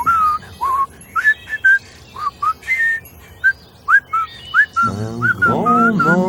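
A person whistles a lilting tune in short bright phrases with gaps between notes, and near the end a deeper whistled or hummed run joins in.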